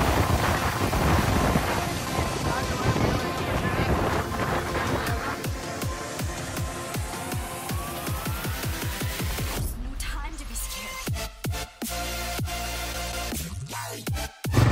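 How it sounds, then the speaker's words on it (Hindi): Rain falls and wind blows outdoors in India while people are on the move. A dense, steady roar with crackling patter fills most of the stretch, then thins into scattered bursts and gusts near the end. "तो बारिश भी आ रही है"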